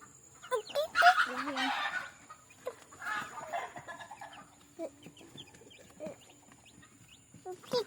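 A mother hen clucks and squawks in bursts, loud at first then softer, with scattered chick chirps and faint background noise around a backyard farmyard.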